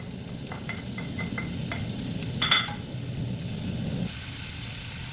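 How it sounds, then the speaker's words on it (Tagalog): Ham sautéing in a heated pan as the first step of a squash pasta: a steady, even sizzle of frying continues throughout, with a few light clinks of a utensil stirring and scraping partway through. "igisa lang natin itong ham"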